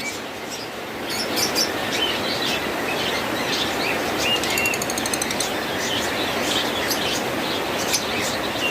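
A lutino black-eye lovebird pair chirps in faint, scattered high tweets over a constant rumbling background hum, heard at a distance.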